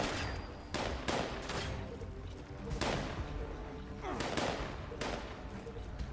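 Bursts of Fallout 76 gunfire crackle in repeated volleys, with sharp loud shots at irregular intervals over a steady background din and no talking.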